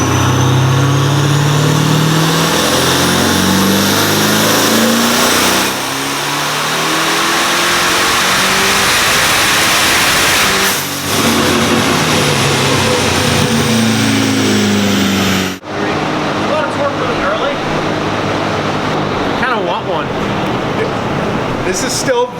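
A twin-turbo Chevrolet Camaro ZL1 running on 93-octane pump gas with no methanol revs hard and loud, engine pitch sweeping up and down through repeated pulls, with a brief cut near the end before roaring again.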